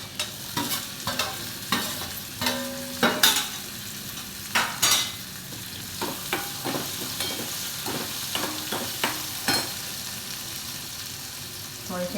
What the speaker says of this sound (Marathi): सगळं तळून घेऊया चांगलं तेलामध्ये.